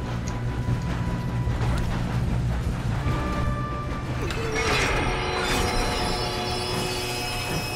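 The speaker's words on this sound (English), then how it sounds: "We have to stop this train." A train in an action video game set in the Old West rumbles steadily with clanking, ratcheting mechanical noise and a brief metallic squeal, loud and continuous throughout.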